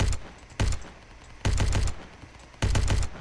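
Machine gun bursts in the Ancient Warfare 3 video game: three loud, close sustained volleys of rapid fire, each about half a second to a second long, separated by short gaps.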